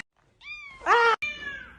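A house cat meows loudly indoors several times in a row, a rising drawn-out call followed by a harsher, louder cry and a final trailing meow, close up with no talk.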